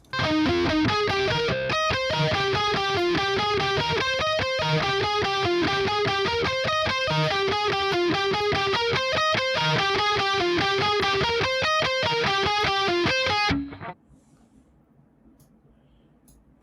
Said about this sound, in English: So that's just a little backing guitar, so I like that.